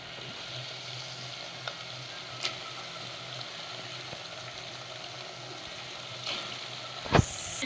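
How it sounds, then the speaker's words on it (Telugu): Masala for a goat mutton curry fries in a pan with a steady broadband sizzle, broken by a few sharp scrapes and knocks as a spoon stirs it, including one louder clack near the end. "మసాలా మొత్తం వేగిపోతుంది వేగిపోయే వరకు కలుపుకుందాం"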